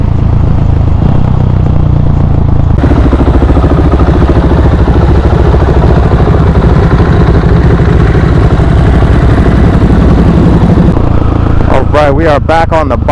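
A KTM 701 Supermoto and a 2023 Ducati Hypermotard 950SP cruise along, the engine drone steady and close under wind noise, while a rider talks over it for most of the clip.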